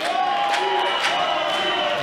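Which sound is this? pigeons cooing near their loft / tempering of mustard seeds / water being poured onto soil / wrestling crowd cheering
wrestling crowd cheering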